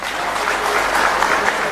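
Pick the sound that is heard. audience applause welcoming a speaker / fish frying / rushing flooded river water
audience applause welcoming a speaker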